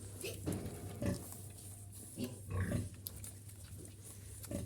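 Piglets grunt and squeal softly in irregular bursts at a sow's teats in a pig barn, fairly close, with a low steady hum underneath.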